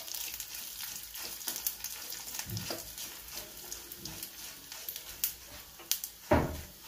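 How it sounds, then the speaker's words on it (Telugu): Urad dal, mustard seeds, chana dal and cumin frying in hot oil for a tempering, soft crackling and sizzling with scattered pops and a louder burst of spitting near the end. "మినపప్పు, ఆవాలు, పచ్చిశనగ ఉప్పు, జీలకర్ర తాలింపులోకి వేసుకున్నాం"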